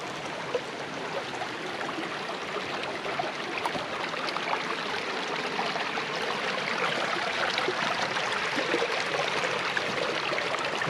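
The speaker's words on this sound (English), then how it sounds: "Lots of water in the creek." A forest creek running full after mild weather, a steady broadband rush of flowing water close by that stays even throughout, with no voices.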